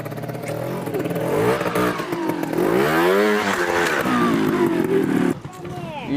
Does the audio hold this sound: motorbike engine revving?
yes